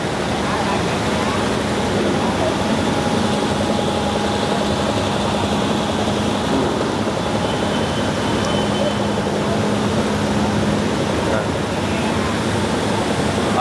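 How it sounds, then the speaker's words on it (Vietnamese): A generator engine drones steadily at a large Vietnamese wholesale seafood market, a constant loud mechanical roar with a faint hum that masks the surroundings, with people talking over it. "Ở đây sao người ta không dùng điện mà dùng máy nổ không ta?"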